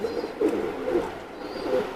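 A male teddy pigeon gives soft, low coos in a few short repeated phrases, close and fairly quiet against a faint background hiss.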